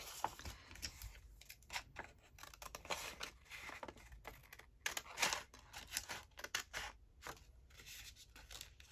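Scissors snip through paper while cutting out library card pockets for a craft project, giving a quiet, close series of crisp cuts and rustles with no talking.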